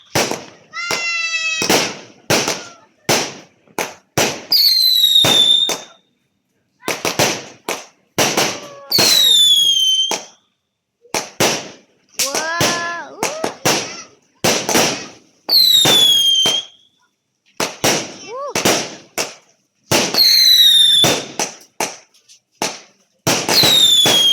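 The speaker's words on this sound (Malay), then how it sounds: "Afan, tengok bunga pink mercun Afan." Loud fireworks and firecrackers burst repeatedly during Hari Raya celebrations, sharp bangs interspersed with whistling rockets rising, some crackling strings, close and intense throughout.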